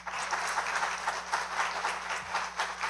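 Round of applause at a county commission meeting for children holding up their artwork, steady mid-level clapping from a modest crowd with a faint background hum.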